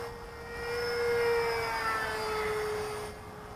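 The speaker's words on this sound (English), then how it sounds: "Bring it in over here a little closer to us on a flyby." An E-flite 64mm EDF F-15 Eagle model jet on a 4-cell battery passes overhead on a flyby, its thin whining ducted fan rising and falling in pitch at moderate distance on a chilly morning.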